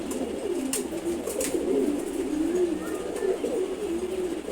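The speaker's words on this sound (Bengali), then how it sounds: "খাকি কবুতর জোড়া মাসাল্লাহ" A pair of khaki pigeons cooing nearby in soft, repeated low throaty coos over a steady background, with a few faint clicks.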